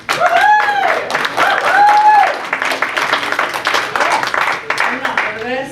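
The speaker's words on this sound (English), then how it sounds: "Let's give a round of applause for Heather." An audience at a peer support conference applauds a speaker, a burst of clapping mixed with voices and cheers that ebbs and swells for several seconds.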